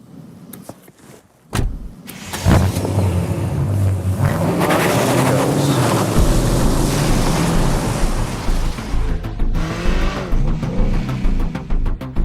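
A BMW 8 Series with a 4.4-litre twin-turbo V8 petrol engine starts up. A sharp burst opens a loud, sustained engine roar with low rumble, which eases slightly toward the end.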